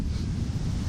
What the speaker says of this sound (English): This is pretty normal because it's windy.